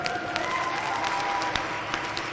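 A crowd at a county fair junior beef and steer show applauds the showmen in the ring with steady, continuous clapping and a few light whoops, heard at moderate distance with a faint tonal hum underneath.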